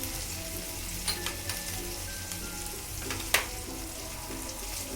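Turmeric being stirred into a cauliflower curry in a frying pan with ginger paste, a steady soft sizzle underneath and a few light scrapes and clicks of the utensil, one sharper knock near the end, no talking.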